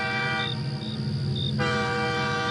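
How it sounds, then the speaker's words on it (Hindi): A train horn sounds from a distance in a Hindi horror cartoon, a steady droning tone that blares for about a second and a half, then shifts pitch and fades into a lower held note, with no voices. "तभी दूर से एक हॉर्न सुनाई देता है।"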